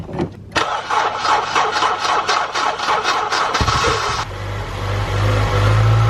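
A Honda Civic EP3 Type R with a completely flat battery, jump-started from a small battery pack: a starter motor whirs rhythmically for a few seconds, the engine catches with a loud burst and settles into a steady idle.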